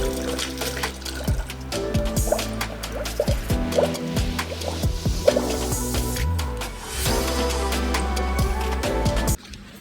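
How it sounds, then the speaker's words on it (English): Coolant poured into the cooling system of a Proton Jumbuck, a steady gurgling, bubbling flow with changing pitch as the radiator fills, close and continuous for nearly ten seconds before stopping abruptly. "I will now just fill it up with coolant and then we'll be done with it."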